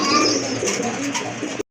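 A fancy Kaldom pigeon coos in a low, close, continuous run, the female sitting in a cage at a pigeon sale, with no clear talking.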